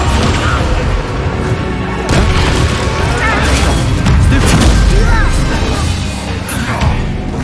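A Descendo spell crash in Hogwarts Legacy, with heavy booming impacts and crashes layered over dense game noise, loud and continuous with several thudding hits.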